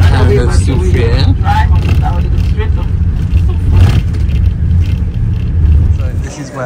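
Steady low engine rumble inside a tour bus on a cruise shore excursion in St Lucia, a continuous droning hum with a voice speaking over it throughout.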